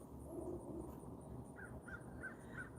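A crow caws four times in a steady series, moderately distant, over a constant low outdoor background hum.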